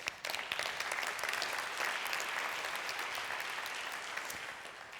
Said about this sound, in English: So I'd like to give you a round of applause for that.